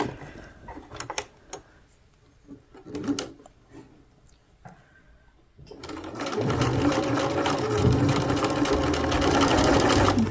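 A sewing machine stitches a fabric project bag, starting after a few clicks and light handling noises, then running steadily and loudly at a fast continuous whir.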